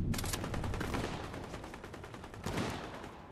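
Rapid bursts of Fortnite gunfire crackle continuously through a match, dense repeated shots dominating with no talk.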